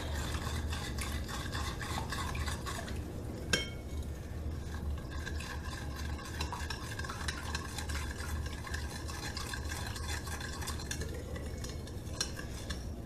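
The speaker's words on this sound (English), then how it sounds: "1/2 cup of sugar to this mixture. And I want to stir that in." A spoon stirs half a cup of sugar into a liquid mixture in a bowl for homemade cinnamon rolls, making steady clinking and scraping throughout with one sharper knock partway, no talking.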